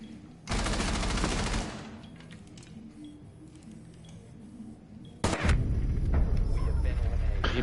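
Gunfire in a Rainbow Six Siege ranked match: a loud sustained burst of shots, a quieter stretch, then another heavy volley, with players talking faintly in between.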